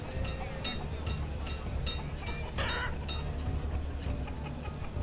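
Chickens cluck in the video game Banished, with scattered short calls over a steady, busy background ambience and no voices.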